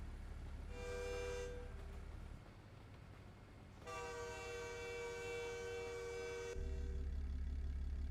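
A train passes nearby in American Truck Simulator near Alamosa, with a low steady rumble and two long blasts of its horn, the second longer and louder, sounding alone.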